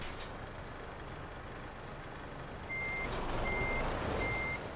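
Truck reversing beeps in Euro Truck Simulator 2 video game, three evenly spaced steady electronic beeps over a continuous engine rumble, moderately loud with no talking.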